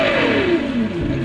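A Ferrari 812 Superfast with a front-mounted 6.5-litre V12 produces a loud, close engine note whose pitch slides steadily downward as the revs drop, then settles at the end.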